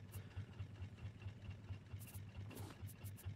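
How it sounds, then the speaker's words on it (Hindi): Engines running in the Raft video game, a low pulsing idle hum throughout with a few brief bright clicks layered on top, no speech. "ये शोर कर रहे हैं बहुत इंजन"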